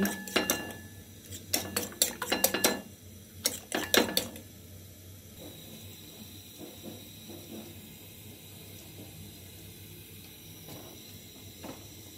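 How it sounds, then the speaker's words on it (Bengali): An egg is whisked with salt in a bowl, giving rapid bursts of metal tapping and clinking against the dish in several short bouts, then quieter scraping over a steady background hiss. "রোলগুলো ভাজার জন্য আমি একটু লবণ দিয়ে ডিমটা ফেটে নিচ্ছি"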